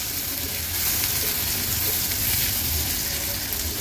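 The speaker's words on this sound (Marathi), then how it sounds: "गॅसची फ्लेम लो करून कांदा आपल्याला शिजवून घ्यायचा आहे।" Finely chopped large onion cooking in a pan over a low gas flame, a continuous soft sizzle with faint bubbling at an even, moderate level and no voices over it.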